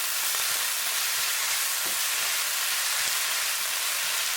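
A Cameroon-style fish roll filling sizzles and fries steadily in a pan while being stirred, a constant hiss with a few faint scraping knocks and no voices.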